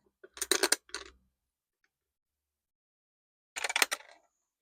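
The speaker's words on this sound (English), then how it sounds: "So I need to roll here six-sided dice" A six-sided die is rolled on a hard surface. There are two short clattering bursts of quick tapping, each lasting under a second and separated by a few seconds of silence, close and clear.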